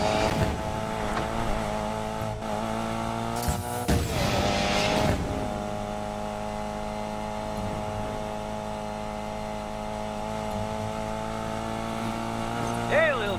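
Race car engines in the video game Need for Speed: Payback hum and rev steadily in a dense, continuous drone, with a brief louder burst of acceleration early on and a voice speaking over the mix.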